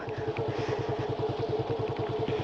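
A motorcycle ridden slowly in first gear by a learner, its engine chugging in an even, rapid rhythm at close range with light throttle and no one speaking.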